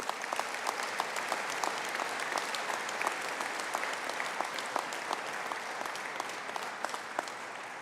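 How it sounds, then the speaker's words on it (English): Audience applause fills a graduation conferring ceremony for a business and hospitality faculty, a steady dense clapping from a large seated crowd that continues evenly throughout without speech. "can I invite you to give a round of applause for the group?"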